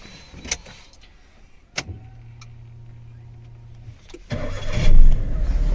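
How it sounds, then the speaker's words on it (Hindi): A car is started up close: after a few faint clicks, the starter motor whirs steadily for about two seconds, then the engine catches with a rising roar and settles into a rough idle. "सबसे पहले करेंगे हम गाड़ी को स्टार्ट"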